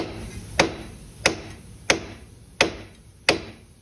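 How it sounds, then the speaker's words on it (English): Five sharp metallic hammer blows strike a steering knuckle at an even pace to loosen an outer tie rod on a 2000-2001 Infiniti I30, each ringing briefly before fading, close and loud with quiet gaps between. "Now we'll take our hammer and we'll hit right here on the steering knuckle."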